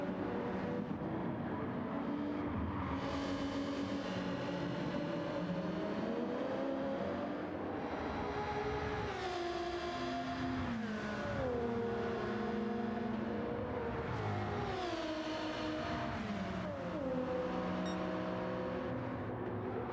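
Race car engine in the Gran Turismo 7 video game runs loud and continuous, revs rising and falling through gear shifts as the car brakes, downshifts and accelerates through corners.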